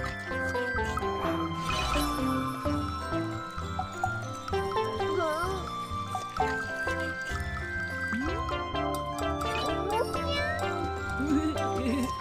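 An animated fairy kitten in a Babybus cartoon gives several short, high, gliding meows over cheerful background music, with light watery trickling sounds and a narrator's voice.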